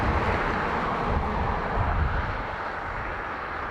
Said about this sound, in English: Cargo ATR.